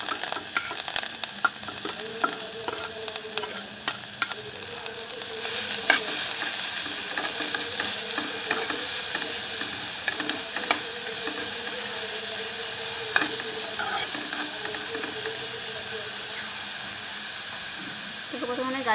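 Carrots and other vegetables sizzle steadily in hot oil over a low-medium gas flame for an egg and vegetable soup, with a spatula scraping and stirring throughout and the frying growing louder partway in.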